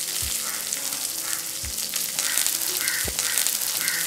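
Fennel seeds, cumin, curry leaves and onion frying in hot oil for a Jaffna-style banana flower fry, a steady loud sizzle with a few sharp crackles and pops throughout, no talking.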